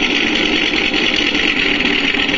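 MrRCSound V4 RC engine sound module playing an engine idle through a small speaker, a steady, even, buzzy mid-pitched rumble with no change in revs and no talking.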